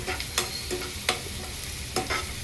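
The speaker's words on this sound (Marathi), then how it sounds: "अद्रक लसूण मिरची व्यवस्थित शिजवून घ्यायची" Ginger, garlic and chilli fry in hot oil, a loud crackling sizzle with several sharp scraping strokes of a spoon across the pan in uneven rhythm.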